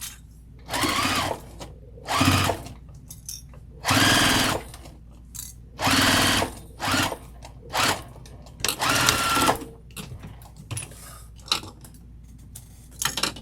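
Sewing machine back stitching a crossbody bag, running in short close bursts of rapid stitching with pauses between, about a dozen runs of varying length.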